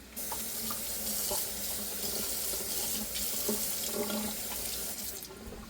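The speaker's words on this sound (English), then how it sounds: "Go ahead and wash the celery." Tap water runs steadily into a kitchen sink while celery is rinsed, a continuous close splashing rush with small clinks and shifts throughout.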